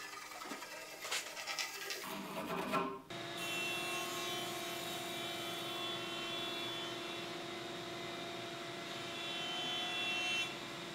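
A jointer planes the edge of a wood board, starting with a rough, uneven cutting rasp for a few seconds, then a steady loud machine hum carries on alone.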